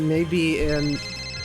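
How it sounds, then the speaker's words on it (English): A phone ringing in the visual novel Steins;Gate, a steady electronic ringtone tone heard briefly over a background music bed. "Fucking phone call"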